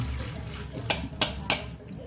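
Soaked moong dal being washed in water for Telangana-style pesara garelu, with a steady wet sloshing under three sharp splashes or pours close by.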